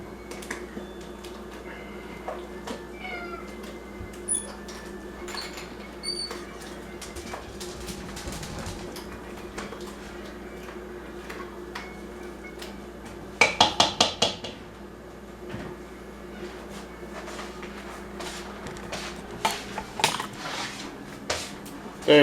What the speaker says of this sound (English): So then we're just gonna mix it all up real good.